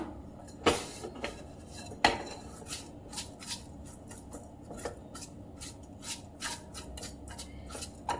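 Roasted vermicelli is scraped and lifted out of a metal wok, giving close, fairly quiet scraping and clinking with two sharper metallic knocks early on and a run of light scrapes afterward.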